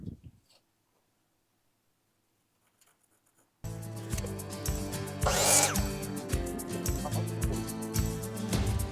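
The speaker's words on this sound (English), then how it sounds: "So cut a 4 foot section here." A power saw cutting a 4 foot section of scrap pine, starting after a near-silent pause and then running loud and steady with a rising whine as the blade bites through the board.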